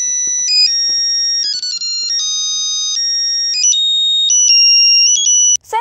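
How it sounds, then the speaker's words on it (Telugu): Mobile phone ringtone playing as a loud, continuous electronic melody of stepped tones for almost six seconds, clear and close, cut off abruptly at the end. "సార్, డార్లింగ్ గారు ఫోన్."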